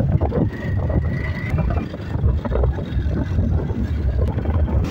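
A motorbike rides along a road, its engine making a continuous low rumble mixed with heavy wind buffeting, and no voices are heard.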